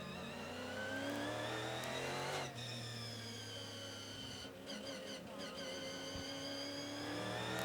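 A green Porsche race car engine sounds at Circuit Paul Ricard before a 24-hour race, a sustained revving drone with shifting harmonic pitch and a brief change midway, fairly distant and continuous with no voices.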